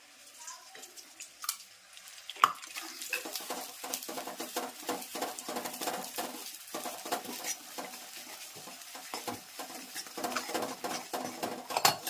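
A spoon stirs a sesame chikki mixture with ghee in a pan, giving repeated scraping and clinking strokes with light sizzling, and a voice speaks at times over them.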